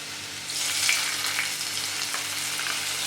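Hot mustard seed tempering poured over an okra milk curry gives a loud, steady sizzle and crackle from close up, rising after a brief pause and holding alone to the end.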